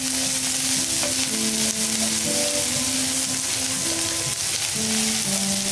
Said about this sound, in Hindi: थोड़ा भूनने के बाद हमने ऊपर से करी पत्ता डाला इसमें